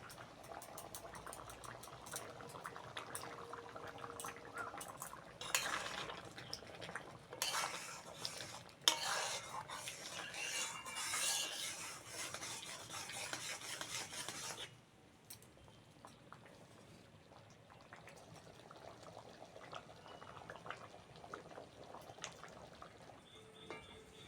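Moong dal with prawns bubbling in a pot on the stove, a steady close simmer with spoon scrapes and utensil clinks, strongest midway before settling to a quieter burble.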